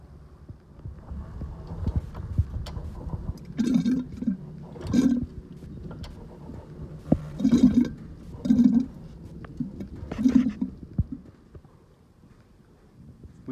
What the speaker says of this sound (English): you can hear the distinct gurgling noise generated when the propeller is rotated